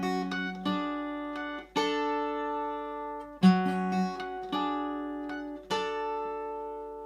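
Acoustic guitar with a capo plays the intro of a song as clear, ringing plucked notes and chords in a slow, spaced phrasing, close and alone without any talk.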